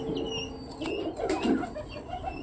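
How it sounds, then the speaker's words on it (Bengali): A pigeon coos softly and flaps its wings inside a cage, a short burst of wingbeats and low throaty calls heard close up. "পায়রাটা অসাধারণ বন্ধুরা"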